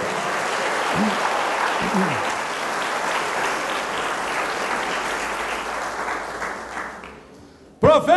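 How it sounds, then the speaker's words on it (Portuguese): A church congregation applauds in praise, a loud sustained wash of clapping with a few cheers near the start that thins out toward the end before a voice cuts in abruptly. "Dê um forte aplauso ao Senhor por isso."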